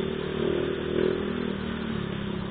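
Motorcycle engine running steadily while riding, with a shaky, vibrating engine and sluggish pull around 60 km/h; a continuous close, moderately loud drone with slight swells and no talk.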